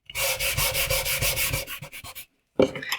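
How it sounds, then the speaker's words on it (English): A pencil-shaded area on paper is rubbed with quick back-and-forth strokes, giving a close, dry, rhythmic scratchy rustle that stops briefly before one more short rub. "And if I put that line in like that, and then give it a little rub,"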